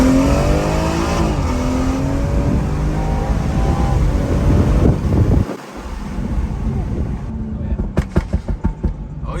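A BMW M240i with a stage 1 E30 tune revs hard under a full-throttle pull, loud engine tone rising through gears with a brief dip mid-run, wind noise over it and a few short exclamations.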